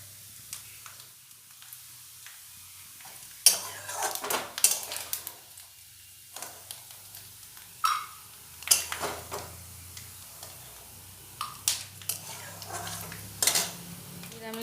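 Fried coconut is scooped out of a pan with a utensil: quiet stretches broken by scattered metallic scrapes and clinks against the pan, with a faint sizzle underneath, close and intermittent.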